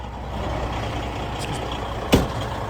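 Diesel engine of a semi truck glider kit idling steadily close by, a continuous low rumble with one sharp hiss or clank near the end.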